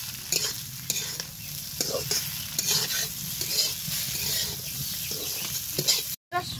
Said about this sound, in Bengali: খুব সুন্দর করে নাড়িয়ে চাড়িয়ে আলুর খোসাগুলা রান্না করে নিব